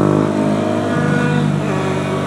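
Yamaha YZF 125 four-stroke motorcycle ridden toward tight bends, its engine droning loud and close with a steady buzzing tone that shifts in pitch as the revs change.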